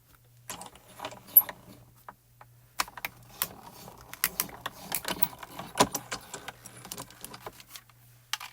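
A Spellbinders die-cutting machine cuts out a bow as a run of clicking, grinding mechanical noise with sharp ticks and clatters, close and fairly quiet, over a steady low hum and with no voices.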